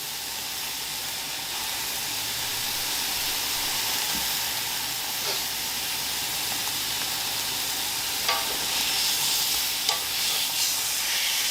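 Carne asada steak sizzling steadily on a hot cooking surface, a continuous broadband frying hiss with a few faint clicks and scrapes of steak tongs, no talking.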